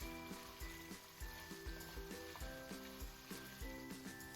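Meat and bell pepper fry in a pan for a warm salad while being stirred, a quiet steady sizzle broken by regular soft scraping strokes.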